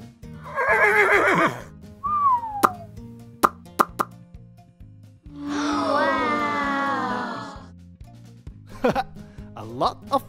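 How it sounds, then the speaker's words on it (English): A horse gives a loud, quavering whinny that lasts about two seconds, set among cartoon plops and chimes from a children's farm-animal song, with a brief voice near the start. "A horse!"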